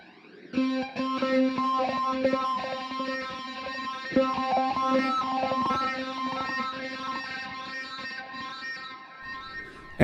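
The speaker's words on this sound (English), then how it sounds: "I'd like to use the Harmonic Distortion preset." Electric guitar played through an AmpliTube Harmonic Distortion preset with compression, auto-wah, delay and flanger, giving a thick, sustained distorted tone with rich harmonics, strummed chords and notes ringing steadily for about ten seconds without talk.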